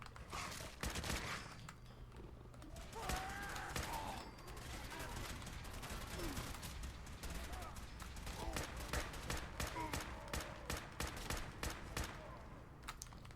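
Sustained gunfire in Fallout 4, a dense stream of rapid shots and bursts over a steady rumbling game background, with a voice talking over parts of it.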